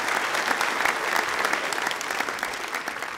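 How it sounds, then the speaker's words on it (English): Audience at a comedy show applauding, a dense steady wash of clapping from a crowd that holds for a few seconds. "Give him a round of applause."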